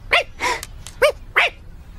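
Cartoon dog barking in an animated episode: four quick, sharp barks in close succession, loud and near, with no talk over them.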